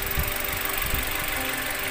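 A 2017 Toyota Avanza G with a 1300 cc engine and automatic transmission idles steadily up close, giving a smooth, even hum and a faint mechanical tick with no talking.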